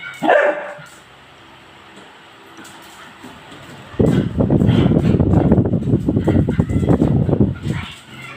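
A dog barks and yips repeatedly in quick, energetic bursts, loud and close, after a quieter stretch with a brief sharp sound at the start.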